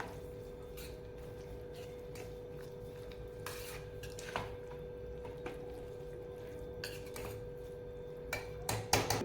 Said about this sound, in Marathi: त्यानंतर काजूचे आणि बदामाचे काप टाकूया आणि असं हलवून घेऊयात व्यवस्थित